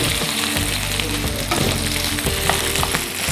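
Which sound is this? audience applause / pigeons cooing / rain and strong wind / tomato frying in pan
tomato frying in pan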